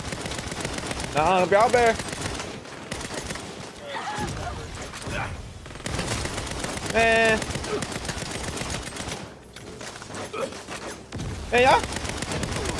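Bursts of automatic gunfire crackle in a Saints Row video game firefight, rapid volleys repeating every few seconds at close range, with someone talking over and between the shots.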